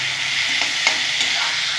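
Spices or eggs frying in hot oil in a pan, a loud steady close sizzle with a few faint stirring taps.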